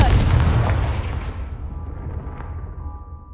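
A fiery Confringo spell blast in the Hogwarts Legacy video game, a loud booming burst at the start that rumbles and slowly fades over a few seconds, with no talking over it.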